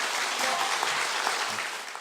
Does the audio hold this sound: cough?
no